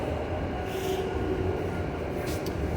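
A red tram rumbles past with a steady, continuous rail-car roar, close and fairly loud, with a faint high squeal partway through.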